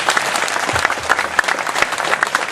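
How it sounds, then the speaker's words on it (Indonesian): Sustained audience applause at a Mocopat Syafaat gathering for Gus Yusuf: dense, even clapping from a sizable crowd, steady and fairly loud throughout, with no voices rising above it. "bersyukur dan tepuk tangan untuk Gus Yusuf"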